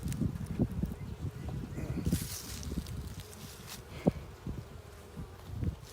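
Honeybees buzzing around an opened beehive during an early-season inspection, a low continuous droning hum with scattered louder passes of individual bees nearby, steady throughout.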